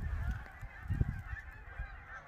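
Geese honk repeatedly at a moderate distance, the calls overlapping, with soft low thumps that could be wingbeats underneath.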